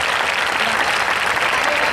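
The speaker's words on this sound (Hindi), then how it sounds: "मैं चाहता हूं इन लोगों के लिए आप एक जोरदार तालियां बजाएं प्लीज।" Enthusiastic audience applause fills a church youth fellowship gathering in Dharavi, a dense, steady wash of many hands clapping loudly without pause.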